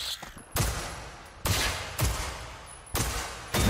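Four loud, widely spaced gunshots in the video game Generation Zero, each a sharp crack that trails off into a decaying echo, with no voices over them.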